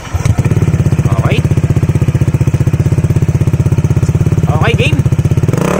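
A Honda ADV 160 scooter fitted with a Yoshimura R77 muffler and silencer, close and loud, with an even pulsing exhaust note that climbs in two short revs, while someone speaks briefly over it.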